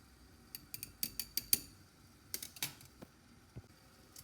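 A whisk stirs a thick, sticky lip balm mixture, giving a series of soft, close clicks and scrapes in irregular clusters against a quiet background.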